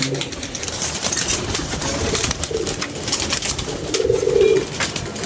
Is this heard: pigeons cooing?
yes